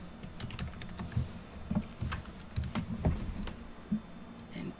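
Computer keyboard keys pressed while working in the Canva design tool make a steady patter of soft, close clicks over a low room hum, without any speech.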